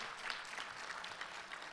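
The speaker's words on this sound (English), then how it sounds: "Bree Maxwell, give her a shout, a hand clap." Audience applause at a rural caucus meeting during the 2024 Democratic National Convention in Chicago, a brief faint burst of scattered hand clapping in a hall.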